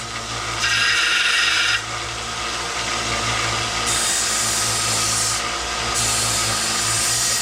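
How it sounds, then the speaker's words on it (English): A handmade steel chisel is cleaned up and sharpened on a power grinder or sander. It gives a loud, continuous abrasive rasp and hiss that shifts in pitch as the metal is pressed against it, with no talking. "So I am going to clean up my chisel. And I'm going to sharpen it."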